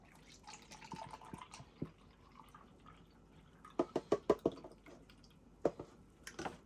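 Beef broth is poured from a carton into a container, producing soft drips and then short clusters of wet glugs and splashes, quiet and close, with no speech.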